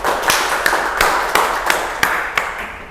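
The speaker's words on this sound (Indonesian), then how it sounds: "Oke, terima kasih, tepuk tangan." A small group clapping in rhythmic unison in a teachers' training session, sharp regular claps about every third of a second over a room hiss.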